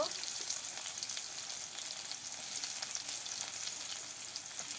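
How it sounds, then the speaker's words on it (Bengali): Onions sizzling and frying in hot oil for a broiler chicken curry in a village kitchen, a steady close crackling hiss that runs the whole time with no voices. "ব্রয়লার মুরগির মাংস রান্নার জন্য গরম তেলে পেঁয়াজ সিজিয়ে দিয়ে দিল"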